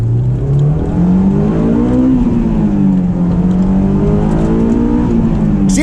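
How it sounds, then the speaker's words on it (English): A 2004 Honda S2000 sports car engine, warmed up, revs loudly and steadily, its pitch climbing and dipping as it accelerates through gears, close and continuous for several seconds. "Engine's all warmed up, so we will accelerate."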